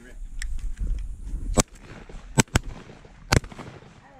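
Shotgun blasts ring out during a dove hunt at a hunting preserve: four sharp, loud cracks, two fired in quick succession, over soft outdoor background rustle.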